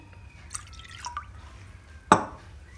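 Vinegar poured into a glass container for Moroccan chebakia dough: a faint trickle followed by one sharp splash near the end, in a quiet kitchen.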